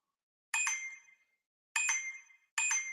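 Three bright chiming notification dings from a phone, each a short metallic ring with a quick decay, arriving in an irregular rhythm against silence, close and clear.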